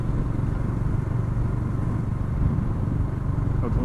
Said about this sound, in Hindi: सच बात मज़ा आ रहा है उस बाइक को चलाने में।